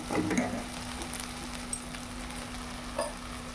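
Homemade chicken fry sizzles steadily in a pan on the stove, a constant close hiss with a faint hum and a few light stirring clatters.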